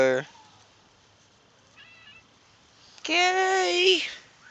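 A pet cat meows twice nearby, one brief cry at the start and a longer, louder drawn-out meow near the end, with near-silence in between.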